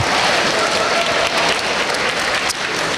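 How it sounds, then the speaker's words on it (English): Steady applause from an audience at a science fair awards ceremony, filling the room at close range for the whole stretch, with a slight dip near the end. "Let's give him a big round of applause"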